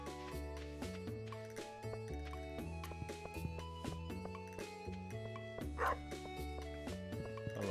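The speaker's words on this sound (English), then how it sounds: "Hello again, dog." A dog in the Stardew Valley video game yips and barks repeatedly over plucked, stepwise background game music, fairly faint throughout.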